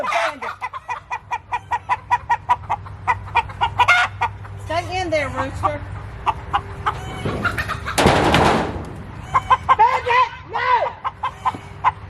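Cornish Cross chickens cluck and squawk close by on a homestead in quick bursts, with a rooster-like call and a brief rustling flurry; a person talks intermittently over them.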